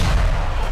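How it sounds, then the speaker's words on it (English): A single loud, booming explosion in the Tremors multiplayer game fills the whole short moment with dense, rumbling noise. "Whoa! Explosion!"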